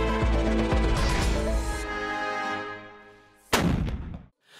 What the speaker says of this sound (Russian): Грохот салютующих пушек.